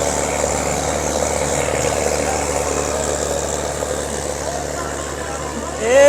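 A tractor without a turbo pulls a loaded trolley in a farm pulling contest, its engine a loud, steady low rumble that swells near the end.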